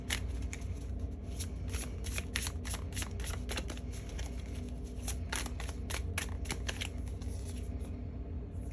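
Tarot cards are shuffled over and over in a quick, crisp riffling rhythm, fairly soft and close, over a low steady background hum.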